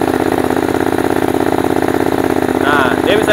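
A BMW motorcycle engine runs at a steady, even idle with a fast, regular low pulse throughout, close and fairly loud, with faint background voices near the end.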